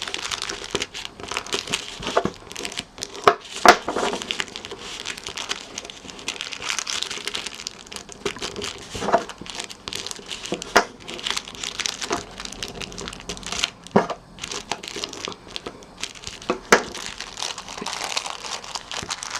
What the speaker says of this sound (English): I'm going to fold the corners into the middle